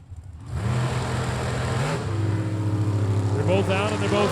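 Drag racing cars, an M&M chassis dragster and an Arkansas-built racecraft car, roar off the line together at a Sunday shootout, a loud sustained engine drone swelling after a brief quieter start.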